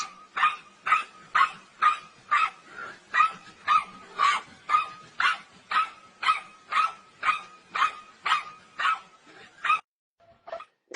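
A black dog barks in a steady, evenly spaced run of about sixteen loud, close barks, then stops into near silence with a couple of faint yips.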